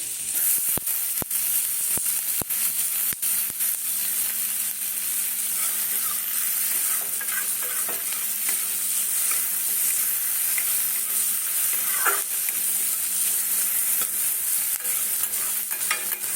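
Chopped capsicum sizzles steadily in a hot pan while being stir-fried for a butter paneer dish, a continuous bright hiss with occasional scraping stirs and no talking.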